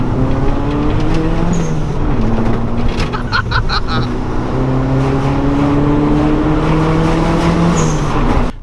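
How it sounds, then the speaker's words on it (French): A Toyota Celica GT4 ST185 four-wheel-drive rally car replica drives hard, its engine a loud continuous roar with rising and falling pitch through gear changes and a brief rattling chatter midway. "Donc c'est une Celica GT Fort, donc ST185, c'est la 4 roues motrices."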